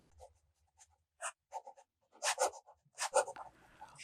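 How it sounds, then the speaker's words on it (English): A fountain pen loaded with Noodler's ink scratches across the paper of an Office Depot steno notebook, making faint, close, intermittent strokes with short pauses between bursts. "The next writing sample is done in an Office Depot Steno notebook."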